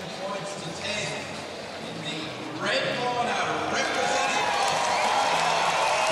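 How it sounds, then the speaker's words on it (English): Boxing crowd at the 2006 Commonwealth Games in Melbourne cheering and clapping for the announced winner, the roar swelling louder partway through, while a commentator talks over it. "And the crowd love it."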